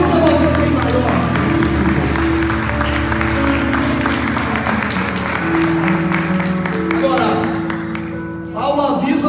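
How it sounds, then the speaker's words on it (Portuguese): A church congregation claps and applauds together, a dense steady patter running under music and a voice speaking, fading slightly near the end. "Levante a sua mão, aplauda Ele e glorifique"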